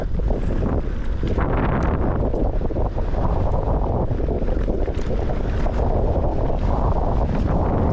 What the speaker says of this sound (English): Oh my God, it's so windy, holy crap.